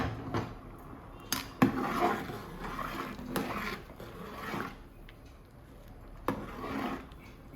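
Sweet pongal of rice and lentils boiling in a pot is stirred with a few clanks and scrapes of a spoon against the pot, with soft rubbing sounds between louder knocks.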